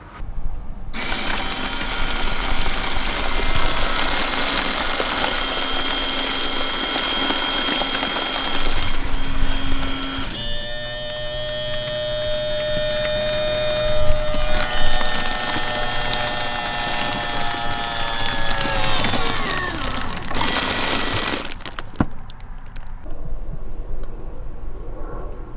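A Modiwell self-sealing waterless toilet works through its heat-seal cycle with a steady mechanical whir and grinding, its motor pitch shifting partway and winding down near the end, followed by a short burst of louder machine noise. No one talks.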